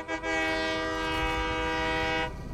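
A train in the factory-building game Satisfactory, a loud sustained horn blast with steady harmonic tones over a rumbling running engine, lasting about two seconds before cutting off.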